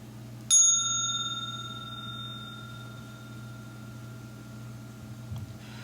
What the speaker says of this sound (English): I'm about to ring the bell